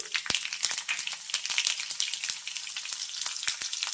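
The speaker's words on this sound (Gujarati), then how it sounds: "આપણે એમાં લીલા મરચાના ટુકડાને ઉમેરીશું" Mustard seeds and green chili pieces fry in hot oil with a steady bright sizzle, punctuated by many sharp popping crackles scattered irregularly throughout, close and fairly loud.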